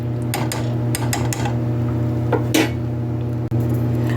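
Dishes and utensils clink while stewed okra and tomatoes are plated up, giving a handful of light metallic taps and scrapes over a steady kitchen hum.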